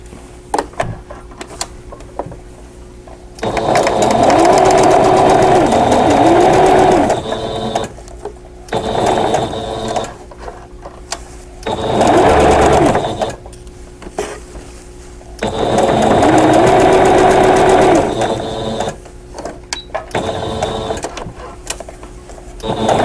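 A sewing machine stitches a row of a vintage-style quilt block in three long, loud bursts of rapid mechanical whirring, separated by quiet pauses with small handling clicks.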